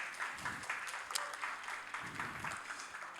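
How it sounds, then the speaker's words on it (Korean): Faint applause from a high school youth group during a Sunday church service, soft and steady with distant clapping under a low background hum. "박수 한번 부탁드립니다"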